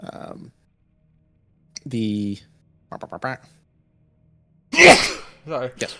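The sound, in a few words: sneeze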